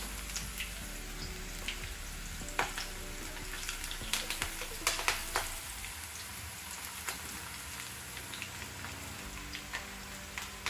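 Pakodi deep-frying in hot oil over a medium flame: a steady dense crackling sizzle runs throughout, close and fairly loud, with sharper pops and spatters scattered through it and no talking.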